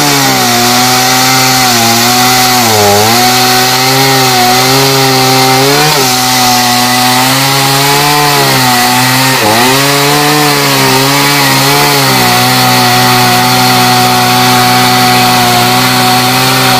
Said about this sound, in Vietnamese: tiếng máy cưa như thế này thì cưa nổi hay là không nổi